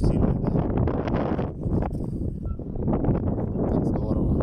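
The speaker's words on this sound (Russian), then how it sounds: "ветер сильный, да?" Heavy, blustery wind roars into the microphone almost continuously, rumbling low and loud with brief easing.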